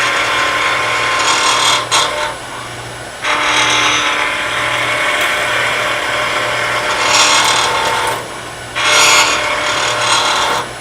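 A skew chisel cuts a wooden pen blank spinning on a lathe, loud raspy bursts of cutting that start and stop over a steady motor hum, with brief quieter gaps between passes.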